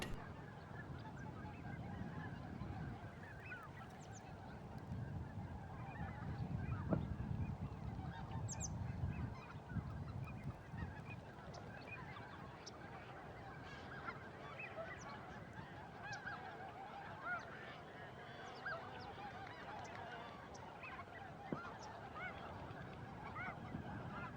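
A large flock of snow geese in Sacramento Valley wetlands honks continuously, many overlapping calls near and far, steady and dense throughout with no voices.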